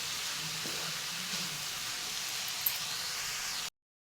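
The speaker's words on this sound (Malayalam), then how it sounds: "കുറച്ച് ഉപ്പൂടെ ഇട്ടു നമുക്കിന്ന് ഇതിനെ വഴറ്റിയെടുക്കാം." Shredded cabbage with salt sautés in a pan for cabbage thoran, giving a soft, steady sizzle and faint hiss with a few light stirring sounds, fairly quiet, with no voices, before it cuts to silence.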